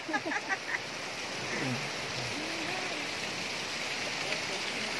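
Mountain water runs steadily on the way down to Taytay Falls in Majayjay, Laguna, a soft, even rushing that fills the whole stretch with a few brief voices near the start.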